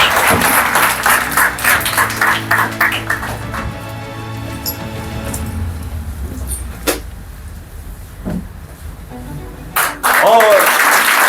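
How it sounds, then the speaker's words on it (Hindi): An audience at a toppers' honour ceremony and poetry gathering claps loudly for a teacher, a dense burst of applause that thins into scattered claps, with a voice speaking over parts of it and knocks and shuffling nearby. "एक बार जोरदार तालियों से उनका स्वागत करें"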